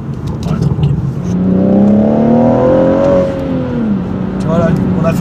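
A car accelerating hard, its engine note climbing steadily in pitch for a few seconds, loud and close from inside the cabin, with people talking over it.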